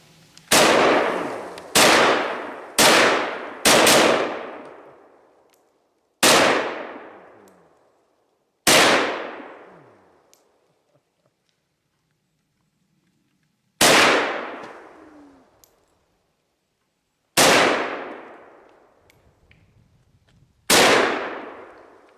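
SKS Russian model rifle fired outdoors at targets in snow: nine loud, sharp shots with echoing decays, a quick cluster of four, then slower single shots spaced several seconds apart.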